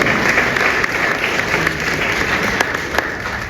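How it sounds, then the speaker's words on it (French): Audience applause fills a French literary prize ceremony hosted at the Senate, steady dense clapping from a sizable crowd that holds evenly loud throughout with no voices over it. "Merci d'applaudir"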